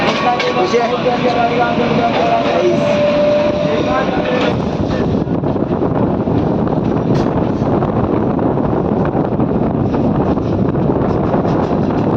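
Inside a commuter train in Thane just after boarding at the station, a steady loud rumble of the carriage in motion fills the whole stretch, with a brief tonal whine early on and people talking over it.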